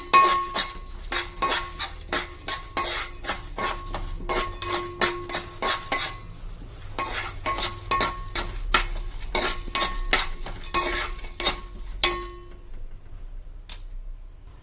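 Ingredients for a homemade protein powder dry-roasted and stirred in a pan, a spoon scraping and clinking against the metal in a steady rhythm for about twelve seconds, with a soft sizzle underneath, then it falls quiet.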